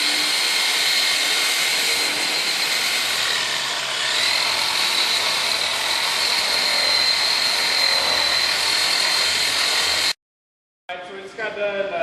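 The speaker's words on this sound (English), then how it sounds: "we just got done using the buffer to buff over all the headlight" A power buffer polishes a car headlight with a loud, steady whine that lasts about ten seconds before stopping abruptly. A voice begins speaking right after it stops.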